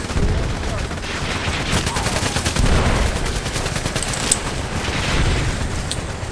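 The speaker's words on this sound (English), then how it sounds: "Oh, grenade!" Dense gunfire and machine-gun bursts rattle through a battle in the 007 Legends video game. A heavier boom from a grenade blast lands among the shots, all loud and continuous.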